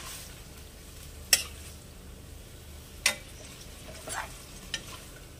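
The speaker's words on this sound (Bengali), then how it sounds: "এবার এটাকে আমি একটু নাড়িয়ে দেবো, নাড়িয়ে দিয়ে এটাকে হতে দেবো" Green chili chicken cooking in a pan, a quiet continuous simmering fizz broken by a few sharp clinks and scrapes of a spoon stirring against the pan, no talking.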